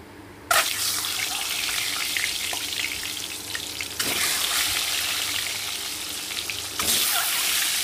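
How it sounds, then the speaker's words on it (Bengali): Eggs are slipped one after another into hot oil seasoned with a little turmeric. Each addition sets off a fresh burst of loud, crackling sizzle, three surges in all, over a continuous close frying hiss. "এবার আমি ডিমগুলো আস্তে আস্তে দিয়ে দেব"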